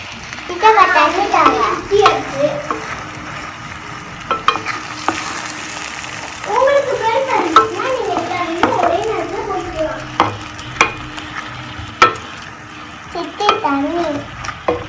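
Pieces of fish for meen pollichathu sizzle in a pan and are placed and turned one by one, with a steady frying hiss and scraping turns under someone talking in Tamil.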